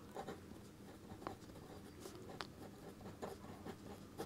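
Pen scratching on paper while working a Class 12 matrix adjoint problem: soft, continuous faint scribbling with a few sharper strokes and ticks, close and low in level.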